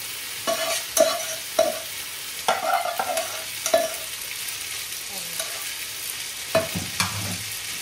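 Pasta being stirred into a cherry tomato sauce with garlic and meat in a pan, close and moderately loud: irregular scraping and clacking strokes of a utensil against the pan, with a soft sizzle underneath and no talking.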